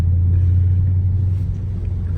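A Jeep SRT drives on a snowy, plowed road with its traction control engaged, giving a deep, steady engine rumble heard from inside the cabin, loud and continuous.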